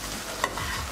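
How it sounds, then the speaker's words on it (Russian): Sauerkraut sizzles steadily as it fries in a pan, with a spoon stirring through it and one brief sharper scrape midway, close and moderately loud with no talking. "мы жарим квашеную капусту"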